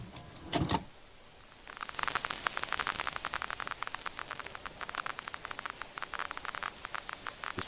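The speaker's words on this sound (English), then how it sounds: "All I got is white noise, chat." Loud white-noise static from a horror video game, a steady broadband hiss with crackling, flickering bursts that runs for several seconds after a brief muffled thump, with no talking.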